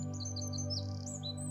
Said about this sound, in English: the sounds of the birds excitedly chirping on the branches